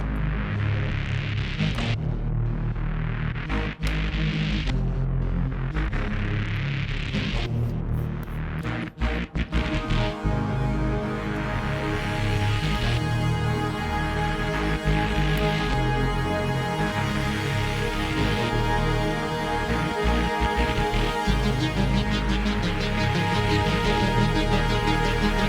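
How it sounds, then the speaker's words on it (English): Drum and bass track in a bright, upbeat style played back in full, with sustained synth chords layered over a steady driving beat and heavy low end, loud and continuous throughout with a brief dip partway through. "This to me is like hopecore drum and bass or something like that."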